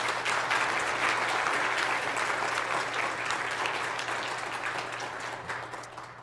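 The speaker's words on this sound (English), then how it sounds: "can we just give a round of applause for that?" Sustained applause from a sizable church congregation at a Sunday morning service after a baptism fills the space, steady and full at first, then gradually thinning toward the end.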